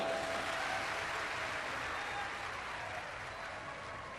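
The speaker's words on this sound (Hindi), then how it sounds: "एक बार जोरदार ताली बजाओ" Audience at a Shiv Mahapuran katha at Ekanteshwar Mahadev, Bhilai, clapping together, a dense, steady wash of applause that holds evenly, fading slightly toward the end.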